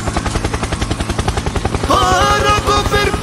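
Helicopter in a Fortnite-style mobile battle royale game, a steady fast rotor chop pulsing throughout, joined partway by louder overlapping game sound effects.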